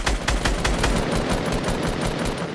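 Sustained rapid gunfire in Squad, aimed at a tree, with a steady rattling stream of close, loud shots for the whole stretch and no pauses.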